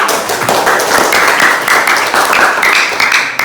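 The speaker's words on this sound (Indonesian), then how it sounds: "Berikan aplaus kepada kelompok 2." A classroom group applauding a student group's presentation, a loud, dense burst of many hands clapping steadily for several seconds, close and without talk.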